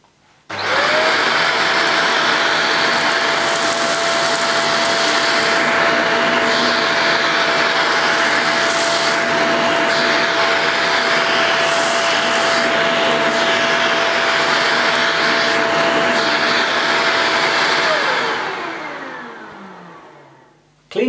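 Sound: Shark Powered Lift Away vacuum cleaner with dust away attachment

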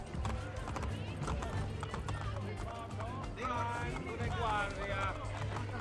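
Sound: horse galloping in a video game

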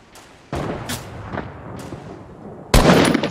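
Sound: gunshots in a video game

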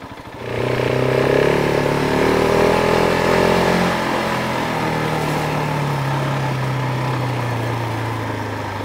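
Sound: KTM 690 Enduro motorcycle riding off-road

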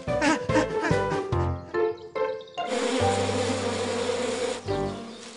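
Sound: bees buzzing at beehive in cartoon

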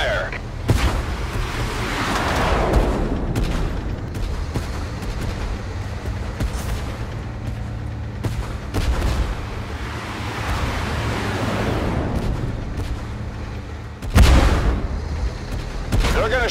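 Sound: tank gunfire in the video game Tank Force

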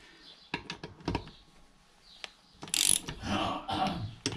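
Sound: torque wrench ratcheting while tightening Lambretta TS1 nuts

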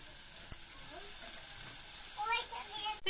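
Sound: vegetable mixture frying in pan with sauces

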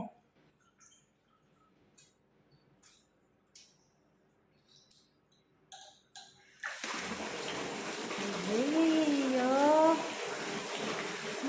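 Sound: water splashing during a child's bath

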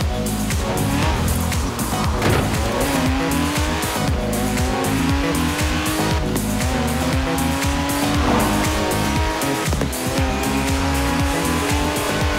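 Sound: car driving with tire squeal in the video game Forza Horizon 4

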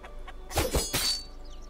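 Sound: chicken clucking in Lost Ark video game

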